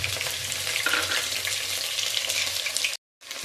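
Crushed ginger and garlic fry in hot oil, a dense close sizzle that hisses steadily for about three seconds, drops out to silence briefly, then resumes.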